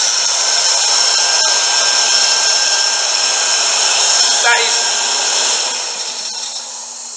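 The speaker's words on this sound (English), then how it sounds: "That sounds like the fan is broken in there." A Supreme hand dryer with a fan that seems broken blows a loud, harsh, rasping rush of air with a faint whine, running steadily up close before easing off toward the end.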